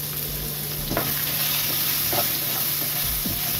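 Peeled potatoes with rock salt and turmeric frying in a pan for Bengali cholar dal, stirred now and then: a constant close sizzle with a few soft scraping stir strokes over it, no voices.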